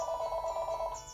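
A telephone rings in a lab orientation setting, a steady trilling bell that is moderately loud and alone, with no talk over it.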